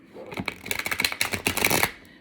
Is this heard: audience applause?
no